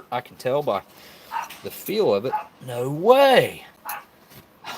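A dog barks and whimpers indoors during a Saturday-night backyard smoker cook, with short yelping and whining calls mixed in and partly masked by someone talking over it.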